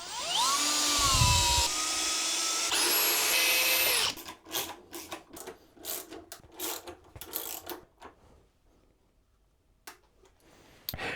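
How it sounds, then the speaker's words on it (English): A comically long drill bit bores a hole into a wooden workbench, whining loudly with a rising then steady pitch for a few seconds, followed by a series of sharp knocks and scraping clatter. "don't mind the comically long drill for this, but this is the closest one at hand that was the right size."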